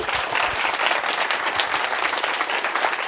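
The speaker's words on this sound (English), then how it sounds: "Can you give a round of applause for Greg?" An audience claps steadily and warmly, a dense wash of applause from many hands throughout.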